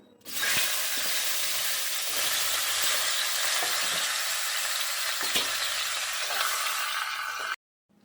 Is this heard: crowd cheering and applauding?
no